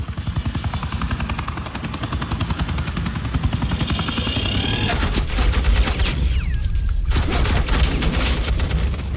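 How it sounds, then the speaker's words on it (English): Rapid suppressing gunfire in the Batman: The Enemy Within video game crackles in dense automatic bursts over a loud, continuous helicopter rotor drone, with a few sharper booms. "suppressing fire"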